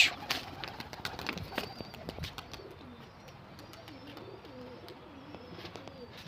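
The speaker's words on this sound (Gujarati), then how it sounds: "ત્રણેય કબૂતર મિત્રો ઉડાડી દીધા છે" Three pigeons just let out of their coop flap off in a short burst of wingbeats, then soft cooing rolls on repeatedly at moderate distance. Scattered chirps are mixed in over a quiet outdoor background.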